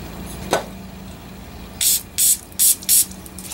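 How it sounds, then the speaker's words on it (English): Brake cleaner sprayed from an aerosol can onto the speedometer of a 1949 Willys Jeep, four short hissing bursts in quick succession after a single faint tap, close and loud in a quiet room. "Alright, let's brake cleaner."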